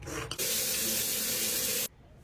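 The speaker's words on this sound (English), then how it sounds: "This is a sanitizer." Hand sanitizer sprayed in one long, steady hiss lasting about a second and a half, close and loud, preceded by a brief click and ending abruptly into quiet.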